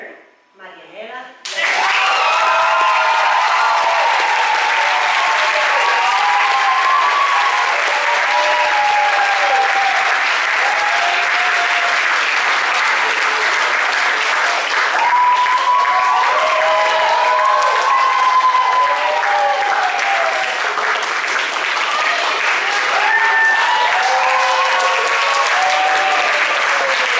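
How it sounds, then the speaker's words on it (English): Audience at a 2022 high school senior awards ceremony breaking into loud, sustained applause that starts abruptly and carries on evenly with scattered cheers and voices underneath. "Please give a round of applause for this year's Eagle Award winner, Manuel."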